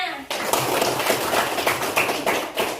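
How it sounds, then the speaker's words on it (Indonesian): Classroom students applauding their classmates: nearly three seconds of steady, dense clapping at close range, with a voice faintly under it. "berikan aplaus untuk teman-temannya"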